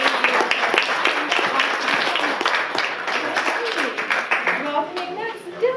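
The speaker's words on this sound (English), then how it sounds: "Let's give him another round of applause." Applause from an audience at a third-grade student presentation event, steady and loud hand-clapping that carries on throughout.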